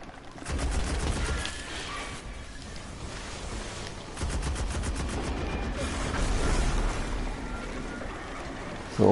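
Automatic gunfire in the video game Destiny: The Taken King, two long rattling bursts with a gap between them, fairly loud over a low rumble, with faint voices underneath.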